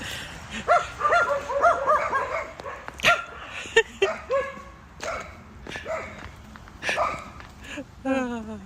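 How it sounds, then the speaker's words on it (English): Dogs bark, yip and whimper in a home, several short bursts scattered through the stretch, fairly close, with a person talking between and over them. "it's Kaiser, it's the doggies, guys"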